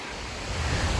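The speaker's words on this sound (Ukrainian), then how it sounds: "Море хвилюється" Sea waves wash onto a beach at Side, Turkey, a broad hissing surge that swells louder toward the end, with some wind noise on the microphone.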